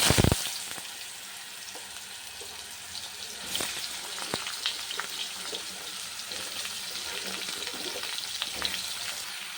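Vegetables fry with a steady, close sizzle while a utensil scrapes and knocks against the pan now and then.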